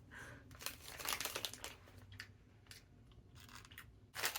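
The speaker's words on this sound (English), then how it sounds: "I'm just gonna rip a piece off." Piece of green apple candy torn off, with close crinkling and soft ripping sounds in irregular bursts, quiet and near.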